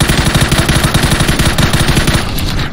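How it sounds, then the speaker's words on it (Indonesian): Rapid automatic gunfire in the PC game PUBG, a loud, dense, continuous stream of rattling shots filling the whole stretch with no talk over it. "Yang nembak ya?"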